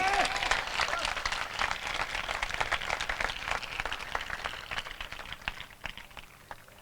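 Church congregation applauding for Jesus during a Hindi sermon, a lively burst of many hands clapping that starts loud and gradually thins and fades, with a brief vocal sound at the very start.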